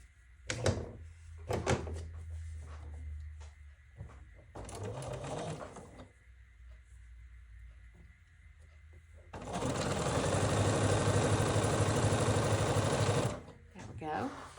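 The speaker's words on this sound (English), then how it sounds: "So let's sew these two together." Sewing machine stitching quilt pieces together: short stitching bursts and clunks early, then a long steady mechanical whir of several seconds, with a person talking at points.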